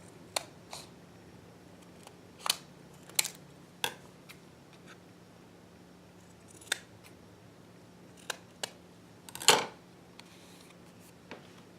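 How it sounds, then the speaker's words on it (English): Scissors cutting paper along a drawn line, sparse crisp snips spaced irregularly with quiet gaps between, one louder snip toward the end, close and alone over a faint background hum. "I'm going to cut a little bit on the outside of this line"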